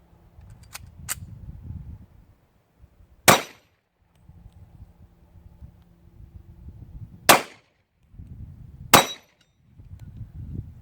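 A 1911 handgun fires four sharp shots at a steel auto reset target outdoors, each crack ringing loud and clear, spread irregularly over about nine seconds with quiet low rumble between.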